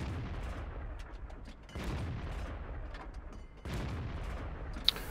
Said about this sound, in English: Watch how quickly this tank gets out its shells.